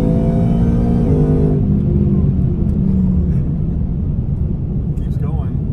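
A 2018 Ford Mustang with a Whipple supercharger accelerates hard, its engine roaring loud and close and the tone climbing then dropping at a gear change, continuing as a heavy rumble with road noise.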